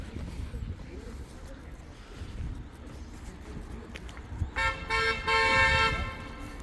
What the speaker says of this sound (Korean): 그거 다 빵빵거림